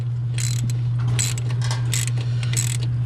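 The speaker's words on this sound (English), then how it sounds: "we have to use a 10mm socket and screw it in" A 10mm socket ratchet screwing a nut onto a mounting bracket on a 2015-or-later Dodge Charger or Challenger, five or six close, crisp bursts of clicking over a steady low hum.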